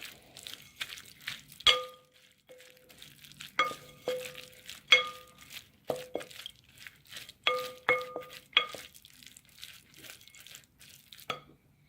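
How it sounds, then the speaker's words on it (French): A spoon stirs a homemade honey skin-care mixture in a small glass bowl, giving repeated close, bright clinks and scrapes at an uneven rhythm, with no voices over it. "On mélange le tout."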